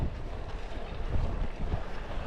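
Heavy wind buffets the microphone during a bike climb, a low, rumbling gusty roar with uneven surges and no voices.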